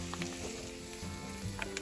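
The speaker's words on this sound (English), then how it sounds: "let's just check on these mushrooms and onions and wieners, sauteing lovely in this cast iron skillet" Mushrooms, onions and wieners saute in a cast iron skillet outdoors, giving a steady, moderately quiet sizzle with a few soft crackles and pops throughout and no talking.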